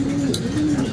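Racing pigeons circling overhead alongside other birds after a 125 km mid-toss release, heard as a steady nearby pigeon coo repeated twice across one second with a soft background hum.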